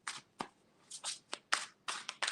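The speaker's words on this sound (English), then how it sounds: "I'm gonna shuffle these really good." A deck of cards being shuffled by hand, with a series of quick, close riffling bursts and sharp snaps in an irregular rhythm, with quiet pauses in between.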